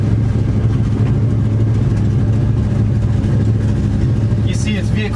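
A 1973 Dodge truck engine runs loud and close with a steady, deep rumble throughout, while a faint voice is heard briefly near the end.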